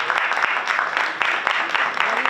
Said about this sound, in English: Let's give a round of applause for the mayor.